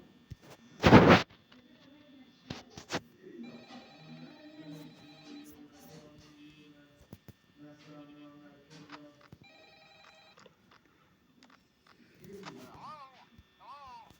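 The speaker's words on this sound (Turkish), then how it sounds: "İkinci gün adam arıyor." A telephone rings in the horror video game Five Nights at Freddy's, sounding in short repeated trills under a low game drone. A sharp thump comes early on, and a voice talks over parts of the clip.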